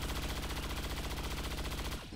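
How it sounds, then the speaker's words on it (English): Rapid automatic gunfire from a soldier's shot that misses its target in XCOM 2, a steady burst of loud, closely spaced rounds lasting about two seconds before cutting off abruptly. "Another missed shot."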